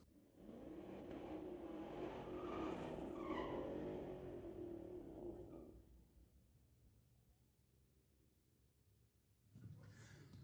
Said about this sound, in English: it is a classic Chevy v Ford grudge match. 2018 Camaro versus a 2014 Mustang GT.